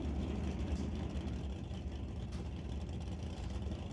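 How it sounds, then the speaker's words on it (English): B-Body Mopar drag racing car in the left lane at an NHRA Northwest National Open Series race, a steady broadband engine roar with rumbling low end, continuous and moderately distant, no talk. "B-Body Mopar coming at us in the left lane"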